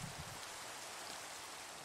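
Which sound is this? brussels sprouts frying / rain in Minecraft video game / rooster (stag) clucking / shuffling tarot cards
rain in Minecraft video game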